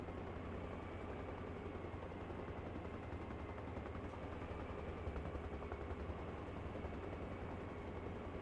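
Helicopter rotor and engine drone from a video game, a steady loud low-pitched thrum with constant chopping texture, continuous throughout with no talk.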